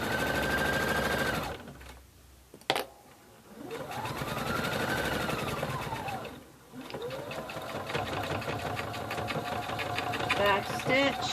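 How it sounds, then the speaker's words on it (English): A sewing machine stitches fabric a quarter inch from the edge for a dog poop bag holder, running in steady whirring bursts with pauses between, close and clear, with a person talking during the stops. "I'm going to stitch this about 1/4 of an inch."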